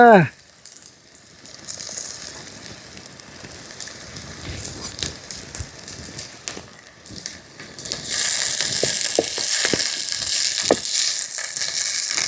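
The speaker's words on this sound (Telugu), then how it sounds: "నూనె అయితే బాగా మరిగిందండి ఇప్పుడు మనం ఉల్లిపాయలు వేద్దాం అబ్బబ్బబ్బబ్బబ్బబ్బా సర్రు సుర్రుమంటుందా" Onions dropped into hot oil for a bamboo prawn biryani hiss and crackle, starting quietly and then swelling into a loud, bright sizzle near the end, with someone talking over it.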